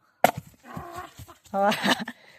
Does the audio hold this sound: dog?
yes